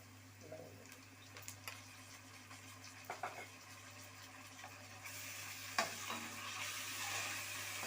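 Ginger garlic paste frying in a pan for gongura boti curry, a steady sizzle with occasional stirring scrapes, getting brighter and louder near the end, under a constant low hum and with no voices.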